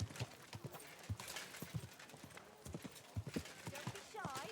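Horse hooves clip-clop in a steady walking rhythm in the video game Kingdom Come Deliverance II, under constant ambient noise and a voice talking, with a brief whinny near the end.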